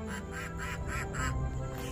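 A farm animal sound toy plays a duck quacking, about five or six evenly spaced quacks in a steady rhythm, close and clear over a light electronic hum.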